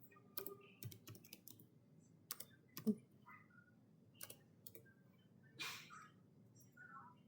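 Keystrokes on a computer keyboard while entering router commands in a network configuration exercise, scattered irregular clicks in short bursts, quiet and close, no talking.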